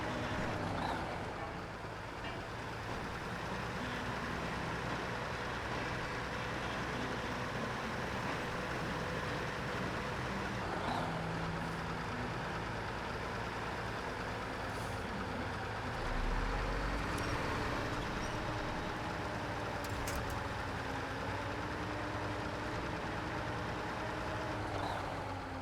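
Truck engine in SnowRunner, a steady low drone with a faint whine that holds level throughout, with no talk over it.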